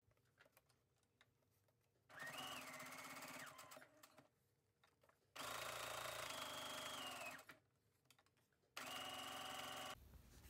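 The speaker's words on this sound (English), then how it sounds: "I'm going to go ahead and sew this around the three edges." A sewing machine stitches fabric around the edges of a hardcover journal cover in three separate bursts of fast, rapid whirring, each lasting a couple of seconds, with quiet pauses between.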